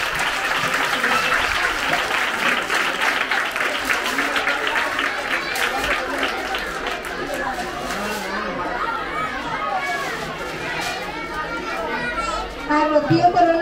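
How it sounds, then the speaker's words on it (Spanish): Schoolchildren at a primary school applaud for Rocío, the visiting hermana mayor of a romería, a long, dense burst of crowd clapping mixed with children's chatter and shouts, fading into talk near the end. "Un aplauso para Rocío."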